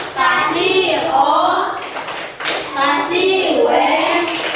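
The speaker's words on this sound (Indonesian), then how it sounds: "kita tepuk wow dulu" Children in a classroom chant loudly in rhythm, with a few hand claps as they perform a group clapping cheer. Their voices rise and fall in two main phrases.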